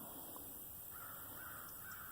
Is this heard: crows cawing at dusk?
yes